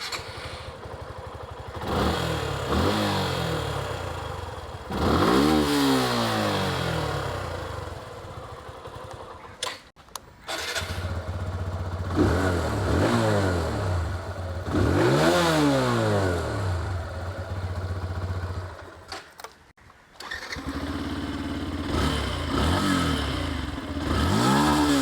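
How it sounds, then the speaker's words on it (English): Exhaust notes of three 160cc-class motorcycles, a TVS Apache RTR 160 2V, a Suzuki Gixxer 155 and a Yamaha FZ-S V4, heard close up one after another. Each idles, then revs repeatedly with rising and falling engine pitch, separated by brief pauses. "Now for the sound, you guys tell me which one has the best exhaust note"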